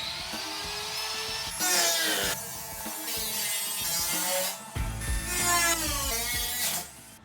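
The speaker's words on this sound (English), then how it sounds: "I'm unfortunately gonna have to cut out part of this good sheet metal" Power tool cutting into the good sheet metal of a rusty Toyota 4Runner rear quarter panel, with a loud, continuous high whine that rises and falls as the cut goes on and no talking.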